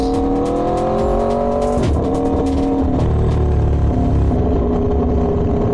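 An Aprilia Tuono V4 fitted with an LV Corsa carbon exhaust revs hard, its pitch climbing through several loud rising sweeps, each with a sharp drop between them.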